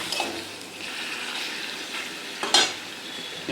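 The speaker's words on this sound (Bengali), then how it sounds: "কড়াইটা ধরে নেড়ে দাও" Food frying in oil is stirred in a wok, with a steady close sizzle under scraping spoon strokes and a louder clatter of metal partway through.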